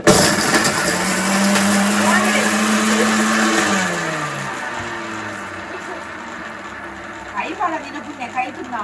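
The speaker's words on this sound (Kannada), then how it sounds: "ಮಿಕ್ಸಿ ಚಾಲಡಿ ಇತ್ತುಂಡು" A kitchen mixer grinder runs with a loud, steady motor whine that slows and drops in pitch as it winds down, with people talking over it near the end.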